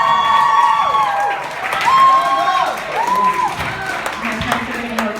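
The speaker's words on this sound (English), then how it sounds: "My parents are getting more claps than me." A stand-up comedy audience claps and cheers for the comedian's parents in the crowd. The steady, fairly loud applause runs throughout, with a voice speaking over it.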